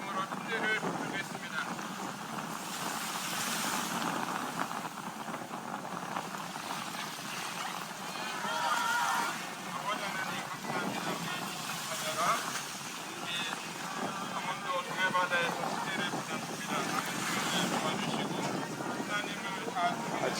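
Wind buffets the microphone and waves surge at a windy seaside baptism site, a continuous rushing roar with swelling gusts, while people talk faintly underneath.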